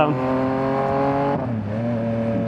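A car engine hums while driving at night in Southern California, its tone rising and falling with light throttle changes and a clear drop in pitch partway through, heard up close under a steady drone.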